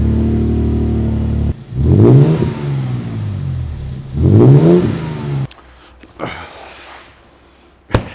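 2022 Toyota Tundra with an MBRP 3-inch exhaust, idling and then revving twice in strong, loud rises before settling, followed by a lower, quieter idle and a couple of sharp knocks near the end.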